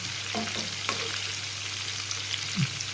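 Chicken liver pieces sizzle and fry steadily in a hot pan, a continuous close crackle with a few soft stirring knocks and no talking.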